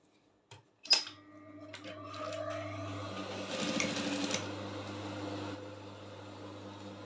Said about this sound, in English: So as I'm sewing exactly at the stitching line